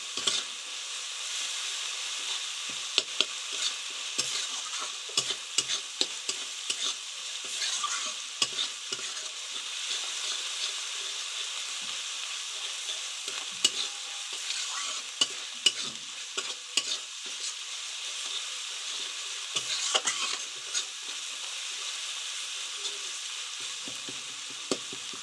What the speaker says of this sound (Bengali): আস্তে আস্তে কিন্তু মশলাগুলোকে কষিয়ে নিতে হবে।